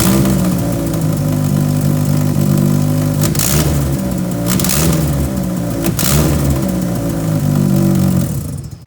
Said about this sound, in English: as you can hear right there, the exhaust is giving him a huge leak